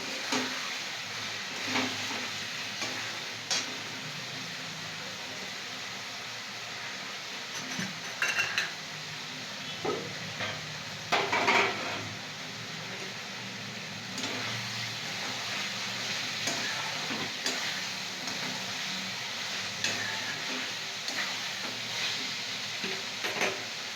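Pointed gourd sizzles in hot oil in a pan for a prawn and gourd dish, with a steady frying hiss broken by occasional clinks and clatters of utensils and cookware, and no one talking.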